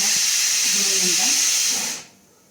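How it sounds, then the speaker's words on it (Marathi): A loud, steady pressure cooker whistle hisses continuously, then cuts off abruptly near the end, leaving quiet behind. "आता इकडे होत आहे शिट्ट्या की जो कुकर आहे ना"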